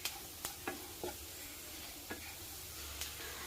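A chili mixture for garlic pickle is stirred in a pan, with a faint, quiet sizzle and a handful of sharp spoon scrapes and taps spaced irregularly across a few seconds.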